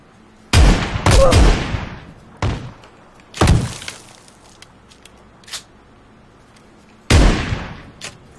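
Heavy gunshots in a first-person shooter game, a few loud booming blasts spaced irregularly with one quick double shot, separated by quiet stretches with faint small clicks.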